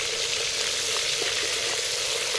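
Chopped onions hitting fully heated oil in a village-style chicken sambar pan, producing a dense, continuous, loud hiss of frying heard up close with no talk.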